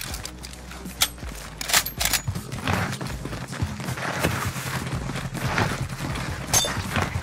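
Gunfire in the video game Call of Duty Warzone, with loud cracking shots and bursts at irregular intervals over background game noise.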